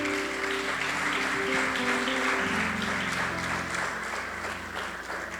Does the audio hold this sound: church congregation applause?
yes